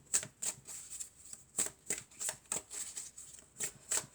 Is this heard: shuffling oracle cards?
yes